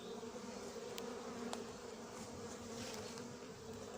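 Honeybees buzz steadily in a dense, continuous drone around a hive during a hiving at Noisy-sur-École, with a few sharper passes of individual bees close by and no voices.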